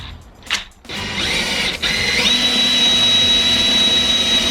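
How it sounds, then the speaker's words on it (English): A power drill whines steadily at close range, its pitch rising and holding as it bites through a metal rivet in a Ram ProMaster van wall, with a brief pause and clunk early on. "I'm gonna have to go in and actually drill this rivet out"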